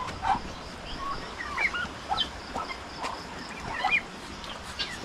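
Ducklings in a pen, with chicks and guinea keets nearby, give repeated high cheeping peeps scattered across the clip over a steady hiss of background noise.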